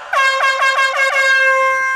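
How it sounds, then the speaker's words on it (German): A loud, sustained air horn blast from a voicemail greeting with a steady pitch, pulsing a few times before holding as one long continuous tone. "Entschuldigt, die Hupe war echt laut."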